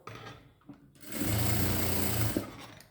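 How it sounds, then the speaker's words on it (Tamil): A sewing machine runs in a steady burst for about a second and a half, stitching a small decorative fabric border, starting after a short quieter lead-in and stopping abruptly. "இப்போது இது மேலே ஒரு படிமான தையல் நம்ம போடுறோம்."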